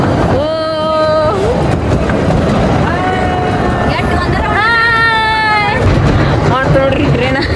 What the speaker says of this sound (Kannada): ನೋಡ್ರಿ ಟ್ರೈನ